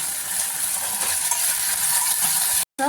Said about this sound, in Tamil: இந்த சமயம் நம்ம எடுத்து வச்சுருக்க சாஸை ஊற்றிக்கலாம்